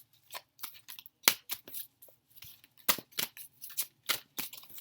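Crisp, rapid riffling and snapping of oracle cards being shuffled, in repeated quick bursts with short pauses, close by and fairly quiet.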